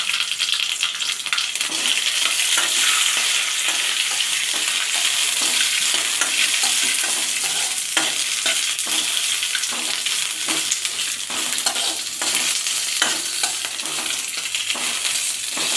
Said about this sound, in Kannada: ಇದಕ್ಕೆ ಮುರಿದಿರೋ ಹಸಿರು ಮೆಣಸಿನ್ಕಾಯಿ ಹಾಕ್ತಾ ಇದ್ದೀನಿ ಸ್ವಲ್ಪ ಕಾಳು ಮೆಣಸು ದೊಡ್ಡ ಕೊಟ್ಟರೆ ಇದನ್ನ ಫ್ರೈ ಮಾಡ್ಕೊಳ್ಳೋಣ